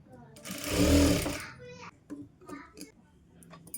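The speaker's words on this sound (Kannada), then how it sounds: "ಅರ್ಧ ಇಂಚು ಮುಂದಗಡೆ ಬಿಟ್ಟು ನಾವು ಇದನ್ನು ಸ್ಟಿಚ್ ಮಾಡ್ಕೋಬೇಕು ಈ ರೀತಿ ಸ್ಟಿಚ್ ಮಾಡ್ಕೋಬೇಕು" A sewing machine stitches a katori blouse in one steady, fairly close burst of about a second, then stops as a person begins talking.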